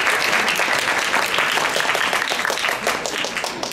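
Reporters at an LG Display IPS technology briefing for the LG Optimus LTE smartphone clap for the presenter, brisk crowd applause that softens near the end.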